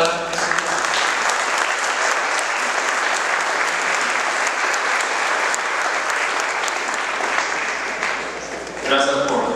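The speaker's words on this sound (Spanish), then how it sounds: "Por favor, demos un aplauso para" An audience at a Spanish-language business ethics talk gives a long, dense, sustained applause for a speaker, loud and steady for nearly ten seconds before a voice begins speaking at the very end.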